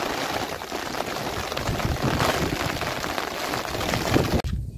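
Heavy rain pours down outdoors in the Sundarbans, a dense, steady roar of drops that holds at a fairly loud level and cuts off abruptly near the end.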